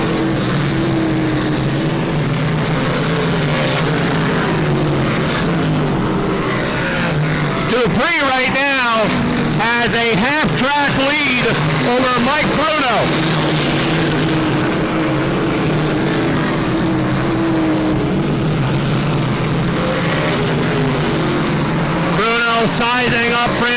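Dirt modified race cars roar around a dirt speedway, engines swelling loudly as packs sweep past, under continuous announcer commentary over the public address.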